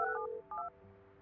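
In the Project Highrise video game, a phone utility hookup plays as a short electronic tone, with a couple of quick beeping pulses followed by a fading low hum.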